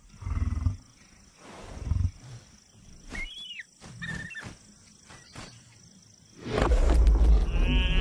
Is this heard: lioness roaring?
yes